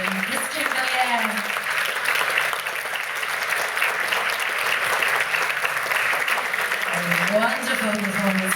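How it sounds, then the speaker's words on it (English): An audience aboard the Queen Mary 2 cruise ship claps steadily after a piano performance, a dense, sustained wash of applause heard close, with someone speaking briefly over it at the start and near the end. "Let's keep that round of applause going for him."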